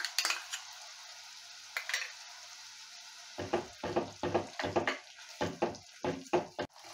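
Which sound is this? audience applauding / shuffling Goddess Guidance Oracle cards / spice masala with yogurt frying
spice masala with yogurt frying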